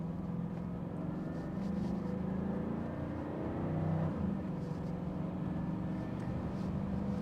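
A Bentley Mulsanne S in non-turbo form pulls hard under full throttle, its engine note a steady, muffled drone heard from inside the cabin that swells slightly as revs climb, with no talk.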